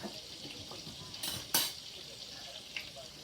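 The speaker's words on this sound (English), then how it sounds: "the gravy is boiling" Meatballs and sausage brown in a pan for homemade Italian gravy, a soft sizzle running underneath with a few sharp bursts of frying and a light clink of a utensil, quiet and close.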